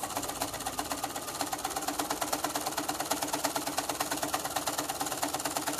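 A sewing machine quilting fabric runs steadily and close, its fast regular needle rhythm unbroken by any talk.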